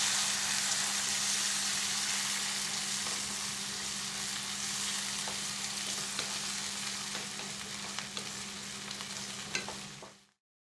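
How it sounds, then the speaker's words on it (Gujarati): Four chopped tomatoes sizzle steadily in a hot pan for a Gujarati tomato curry, with occasional spoon scrapes and clicks from stirring, close and continuous before cutting off abruptly. "હવે તેમાં ઉમેરીશું 4 સમારેલા ટમેટા અને હવે ટમેટાને એકવાર મિક્સ કરી દઈએ"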